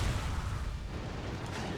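Cannon fire in the video game Berserk and the Band of the Hawk, a loud, close, low booming blast that rumbles on and fades over a couple of seconds.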